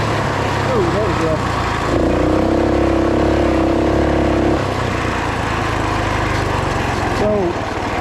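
A 2WD Roko Ranger off-road bike's small engine chugs steadily in its low first crawling gear, a loud close drone that rises briefly in pitch midway, then settles back to an even idle.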